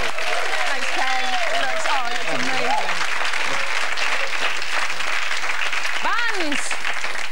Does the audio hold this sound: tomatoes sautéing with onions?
no